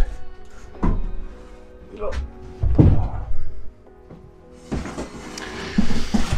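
A fiberglass sim racing seat, the Simlab SF1, is lowered with a series of hollow thunks and knocks, several loud bumps spaced unevenly amid rustling handling and someone speaking French.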